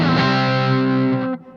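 An electric guitar chord rings through a Maestro saturation pedal with the tone knob fully up, thick and bright with harmonics, sustained loud for over a second before being cut off sharply.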